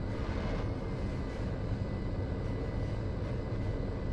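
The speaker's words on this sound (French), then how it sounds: "du coup on va garer l'avion, hein." A small airplane taxiing to park in the GTA 5 video game, its engine giving a steady, loud, low drone that runs unbroken for the whole stretch.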